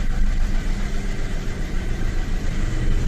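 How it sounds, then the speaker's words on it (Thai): Toyota Camry engine running at idle right after a hard start, a steady close rumbling drone with an even pulsing rhythm and no talking. "เครื่องติดแล้ว"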